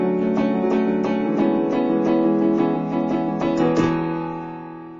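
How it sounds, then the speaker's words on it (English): Piano bass notes struck in a steady rhythm to stand in for a snare drum in a song, with sharp repeated attacks over sustained chords that fade out at the end. "I like to simulate the snare drum with some bass notes"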